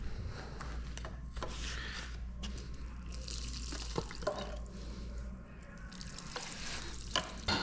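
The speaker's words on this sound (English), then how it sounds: "as soon as we pull this cover, we're gonna get coolant everywhere" Coolant spills out of a rusty 6.0 Powerstroke diesel engine as the water pump cover is pulled off, making a faint, steady pouring and splashing sound with occasional metallic clicks.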